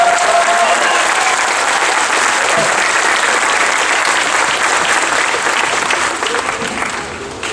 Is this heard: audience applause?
yes